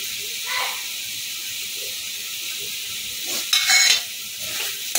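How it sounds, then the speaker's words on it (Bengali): Coriander leaves being stirred through egg curry in a frying pan: a steady soft sizzle runs throughout, with scraping spoon strokes rising briefly near the start and more sharply toward the end. "একটু ভালো করে নেড়ে ছেড়ে নেব।"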